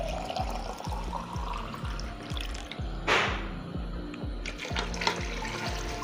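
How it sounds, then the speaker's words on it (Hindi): Water poured from glasses into a pot of mutton, a steady splashing fill that lasts several seconds over a rhythmic low thumping in the background. "मैं ये कम से कम 6 गिलास इसमें पानी डाल दूँगी"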